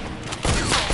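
A single sniper rifle shot in a game match, a sudden loud blast midway through the moment, ringing briefly afterward.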